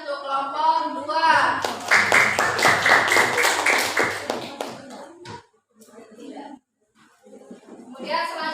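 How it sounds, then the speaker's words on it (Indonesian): Classmates in a classroom clap for a student group after its presentation, a few seconds of dense, close applause starting right after a teacher speaks and fading into scattered taps and further talk. "Beri tepuk tangan untuk kelompok dua"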